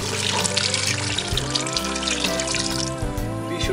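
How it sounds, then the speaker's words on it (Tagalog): Pork blood pours into a simmering dinuguan stew, a steady liquid rush that holds for a few seconds over a continuous backing of music. "Pwede na po natin halo ang dugo."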